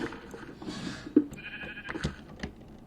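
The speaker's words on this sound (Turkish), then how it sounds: "Yani koyunlar, koyunları hiç sevmiyorum." Sheep bleat in a survival video game, several short nasal calls scattered over a few seconds among faint ambient game noise, with no talk.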